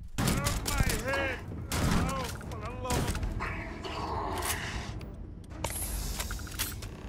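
Gunfire from bleed weapons that set enemies on fire in the space game Starfield: rapid volleys of shots and impacts mixed with game effects, loud and continuous, with someone talking excitedly over much of it.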